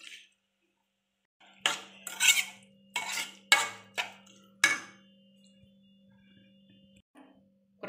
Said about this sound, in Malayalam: ഇനി നമുക്ക് നന്നായിട്ടൊന്ന് മിക്സ് ചെയ്യാം.